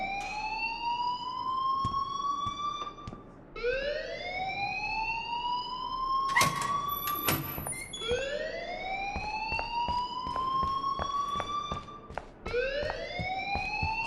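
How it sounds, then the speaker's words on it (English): Alarm blaring in the video game Life Is Strange, a loud wailing siren that rises in repeated sweeps of about three seconds each, broken by a burst of harsh electronic buzzing midway, with no voices. "please turn off that alarm since that's your job"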